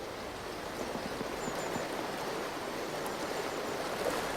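River current flowing on an Irish waterway, a steady broadband rush of moving water, moderately quiet and continuous with no voices.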